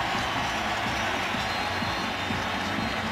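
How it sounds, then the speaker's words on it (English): Dense, steady roar of a large stadium crowd cheering at an NFL football game between the Seattle Seahawks and Dallas Cowboys, a loud continuous wash of voices with no breaks. "This crowd's going crazy."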